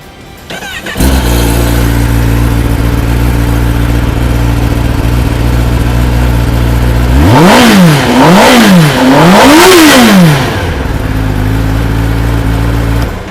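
A stock-exhaust Kawasaki ZX10R inline four-cylinder superbike idles steadily, then is blipped through three sharp, loud revs before settling back to a smooth idle.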